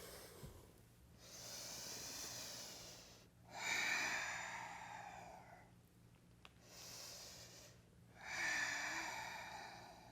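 Breathing during a yoga power flow: slow, audible inhales and exhales in long rising and falling swells, faint and close, repeating about three times.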